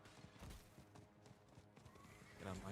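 Galloping horse hooves clip-clop steadily in Diablo 4 with a whinny, over busy game music and combat effects, growing louder near the end.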